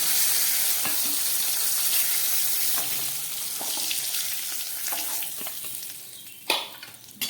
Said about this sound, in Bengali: মাছগুলোকে খুব ভালো করে ভেজে নিলাম, এবার মাছগুলোকে তুলে নিচ্ছি।